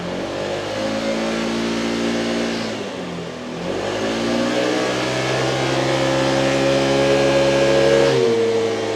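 A Honda Forza 125 scooter engine runs warm on a dynamometer, holding a steady loud drone, dipping briefly and then climbing again in a smooth rising rev with strong harmonic whine, close and alone.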